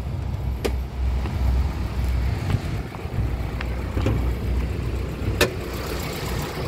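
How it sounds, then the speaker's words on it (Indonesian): A 1995 Toyota Starlet 1.3 engine idles steadily with a low, smooth rumble, broken by a few faint clicks; no one speaks. "Mesin suaranya juga masih kategori istimewa, masih halus."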